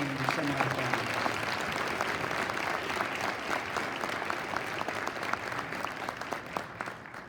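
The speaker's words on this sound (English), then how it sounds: "About a nice big round of applause for our 15 semifinalists." A pageant audience applauds the 15 semifinalists of the Ohio Fairs Queen contest, a dense, sustained round of clapping from a crowd that runs steadily for several seconds.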